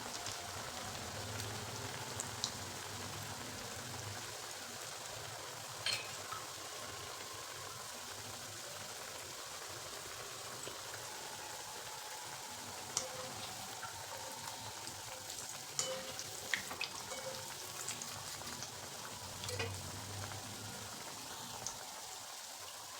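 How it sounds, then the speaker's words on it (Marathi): Steady, soft crackling sizzle of snacks frying in hot oil over a low flame, with occasional small pops, continuous and fairly quiet. "लो फ्लेमवरती तळू द्यायचे"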